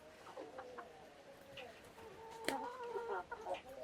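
Hungry free-range village chickens cluck and call in a farmyard, a few close birds giving short overlapping clucks and squawks with a louder burst midway.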